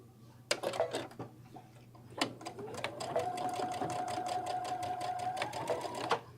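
Sewing machine stitching a zippered clutch bag: a few handling clicks, then a fast steady run of needle strokes for several seconds before stopping, loud and close.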